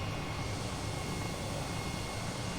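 Helicopter in Microsoft Flight Simulator flying fast over snowy Tokyo scenery, a steady, muffled rotor and engine roar with no talk.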